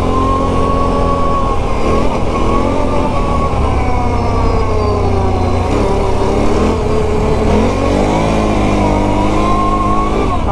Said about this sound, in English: definitely going around that turn right there and giving it the gas